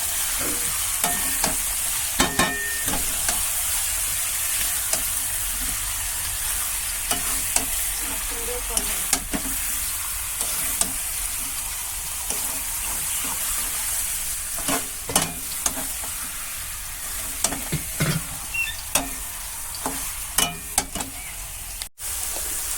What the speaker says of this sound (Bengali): এদিকটায় শাক ভাজাটা বসিয়ে দিলাম ওই যে নোটে শাক